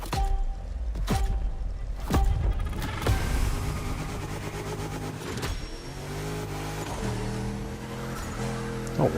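In The Crew Motorfest racing game, a DeLorean built as a drift car revs and accelerates with sharp engine surges, gear changes and tire squeal, loud and up close, with a voice speaking at times over the engine.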